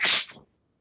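One sharp, loud sneeze bursts out close by, then cuts off into silence.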